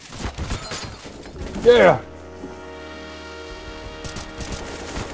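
Gunfire in Counter-Strike on the Inferno map, with a few sharp shots early on, then a ringing tonal effect, while players talk and exclaim over it.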